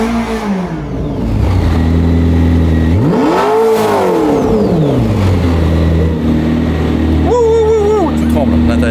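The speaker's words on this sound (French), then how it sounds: "Tout tremble à l'intérieur quand j'appuie sur l'accélérateur. C'est puissant." A McLaren P1 GTR road-legal conversion revs hard under acceleration, its loud engine note rising and swooping in pitch with a sharp surge mid-clip and further blips near the end, heard from inside the car.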